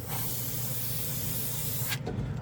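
A Gaahleri trigger airbrush, fed by a dual-port compressor, is sprayed while being cleaned out, giving a continuous close, even hiss of air and paint that shifts abruptly just before it ends.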